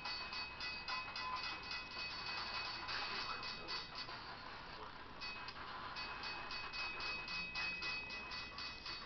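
Train brakes on a BNSF intermodal train in Trainz Simulator 12 hiss and grind with a steady metallic rumble and faint rhythmic clatter, a synthetic-sounding rail noise at moderate level.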